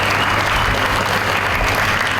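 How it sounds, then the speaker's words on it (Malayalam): Workshop participants give actor Murali Menon a warm round of applause at an acting camp, a loud, continuous rush of many hands clapping together. "സാറിന് നല്ലൊരു കൈയടി കൊടുക്കാം."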